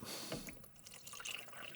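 Fresh, clean water pours into a bucket while a watercolor painter cleans up between washes: a steady, close splashing trickle with faint dripping, quiet and without talk.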